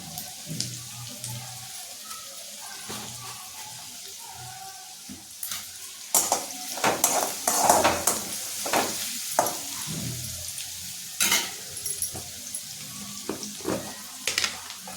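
Asafoetida tossed into a pan of onions sizzling in oil while cooking kanda poha, with a steady close frying hiss, scattered clinks and scrapes of stirring, and a few sharper spoon knocks against the pan.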